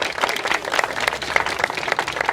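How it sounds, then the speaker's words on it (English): An audience at a bill-signing ceremony for universal preschool applauds legislative champions, a dense, steady patter of clapping from a room full of people for a couple of seconds. "Let's give our legislative champions a round of applause."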